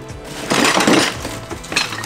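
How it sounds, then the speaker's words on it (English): Small cheap-looking dishes, found in a bought storage unit, clink and rattle as they are handled, a few light chinks and clatters close by at moderate loudness, with no talk. "So we have like some little dishes in here too, where they look really cheap."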